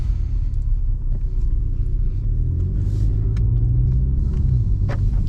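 A Mini John Cooper Works car driving on Scottish roads along the NC500, giving a steady, loud low engine and road rumble throughout with no talking.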